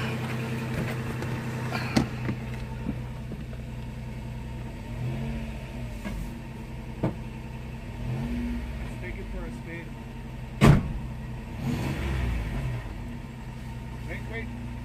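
A 1995 Toyota 4Runner engine, recently misfiring, runs at a rough, rumbling idle with a few sharp knocks, while people talk nearby over it.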